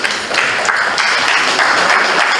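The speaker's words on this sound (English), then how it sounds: "Another round of applause, ladies and gentlemen" Audience applause at a university students' association handover and inauguration ceremony, a steady wash of clapping sustained at even strength for a couple of seconds.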